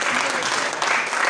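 A church congregation at a Sunday Father's Day blessing service applauds in a short, dense burst of steady clapping that fills the room at moderate volume.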